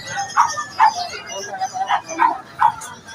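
A dog gives a quick series of short yips and small barks, about six bursts spaced irregularly, fairly close, with voices talking in the background.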